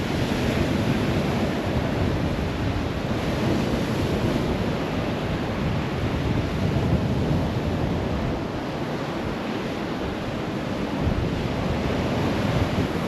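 Rough sea surging at high tide in bad weather, a continuous loud wash of waves mixed with gusting wind noise on the microphone, no voices.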